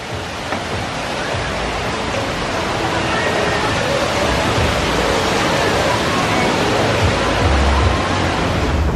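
Water rushes steadily on a log flume ride at Six Flags St. Louis, a loud continuous broadband roar like a waterfall or surf that stays constant throughout.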